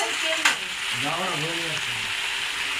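Spiced meat curry with dried chilli powder and turmeric sizzles loudly in a pan as yogurt is added, a steady frying hiss with a brief splash, while someone speaks over it.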